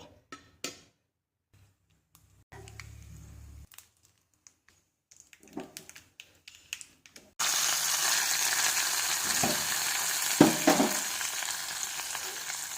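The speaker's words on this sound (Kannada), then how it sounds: "ಇದಕ್ಕೆ ಒಂದು ಒಗ್ಗರಣೆಯನ್ನು ಹಾಕೋಬೇಕು ಕರಿಬೇವು ಹಾಕಿ ಕರಿಬೇವು ತುಪ್ಪ ಹಾಕ್ಕೊಂಡಿದ್ದೀನಿ" Hot ghee bursts into a loud, steady sizzle as a tempering of curry leaves and mustard seeds goes in after a few soft clinks and rustles, with crackling pops running through it.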